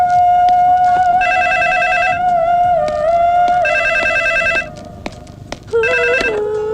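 A telephone rings in a Hindi film scene, with loud, repeated electronic trilling bursts over a sustained musical tone. The rings come in regular intervals, and the pattern briefly changes near the end.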